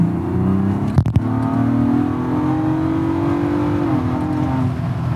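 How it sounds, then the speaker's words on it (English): A Ford Bronco Raptor's exhaust revs up, rising in pitch and holding a steady loud drone before dropping back, with a couple of sharp knocks near the start. "So let's go ahead and hear the exhaust real quick."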